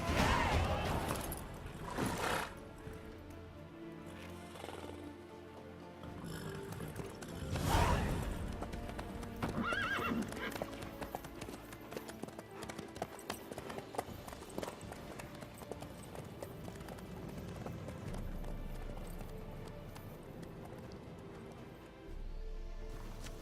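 Horse hooves clip-clop in a steady running rhythm through most of a Witcher 3: Wild Hunt game scene, moderately loud, with occasional thuds, whooshes and ambient game sounds around them.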